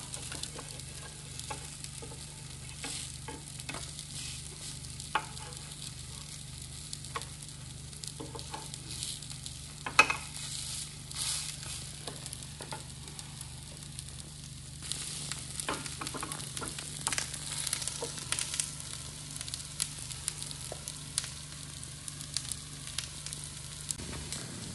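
Fenugreek leaf adai frying on a pan, a quiet, steady sizzle with soft crackles and occasional scraping taps, heard alone without talk.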